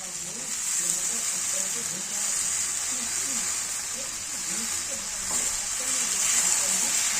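Washed Malabar spinach goes into a pan of frying fish head, raising a loud, continuous hissing sizzle with a muffled voice faintly underneath.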